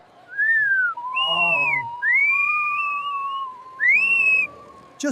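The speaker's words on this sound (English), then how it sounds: "Whistling." A person whistles a slow, sliding tune in a cartoon setting, with several drawn-out wavering notes rising and falling, clear and close with short pauses between phrases.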